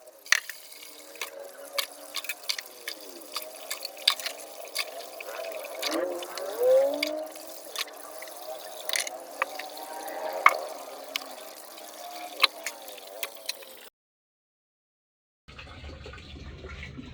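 Plates washed under a running tap at home, close up: steady splashing and trickling water with clinks of dishes, continuous until it stops abruptly near the end.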